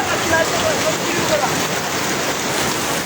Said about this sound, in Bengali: আজকে বর্তমানে চট্টগ্রামে প্রচুর বৃষ্টি হইতেছে